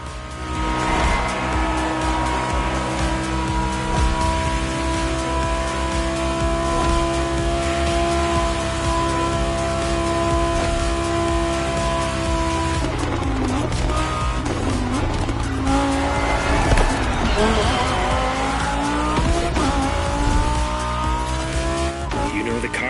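A Lamborghini Huracan Performante customized by Liberty Walk races in The Crew Motorfest, its engine roaring loud and constant, with repeated tire squeal and skidding, under game music and voices.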